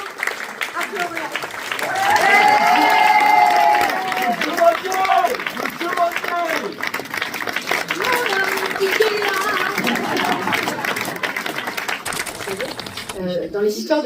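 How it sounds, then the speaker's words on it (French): Audience at an intimate concert in a small venue applauding and cheering, a steady crowd clapping texture with raised voices lasting over ten seconds before tapering off. "un tonnerre d'applaudissements."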